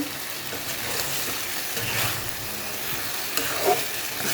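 Rui fish sautéing in a pan, a continuous close sizzle and frying hiss with faint stirring scrapes through it, steady throughout with no talk.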